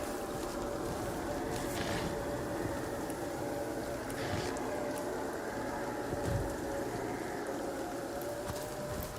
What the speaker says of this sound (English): Oh, the second you walk out, it starts raining.